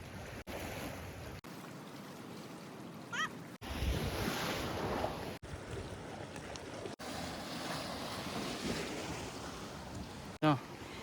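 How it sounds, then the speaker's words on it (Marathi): Sea waves crash and surge near the Kulaba sea fort, a loud continuous roar with wind buffeting the microphone and a few abrupt breaks in the sound. "समुद्राच्या लाटांचा भयंकर असा आवाज येतोय"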